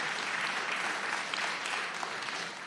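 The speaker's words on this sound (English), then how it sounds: "a round of applause" Steady applause from an audience at a conference summit on human trafficking, a dense, even wash of clapping that holds throughout and eases slightly at the end.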